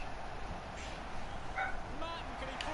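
Dogs at a house bark, yip and whimper faintly from a distance, with a few short yelps scattered across a low background hiss.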